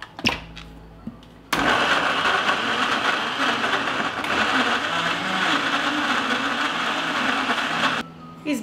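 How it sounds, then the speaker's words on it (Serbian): A kitchen blender grinds peeled peaches into purée, starting with a sudden loud roar that runs steadily for about six seconds before cutting off, with quieter kitchen clatter before and after. "Očišćene breskve samleću u blenderu."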